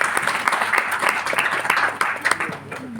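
Audience applause breaks out for a chairperson at a gathering, dense steady clapping from a crowd sustained for several seconds, fairly close and loud, thinning slightly toward the end.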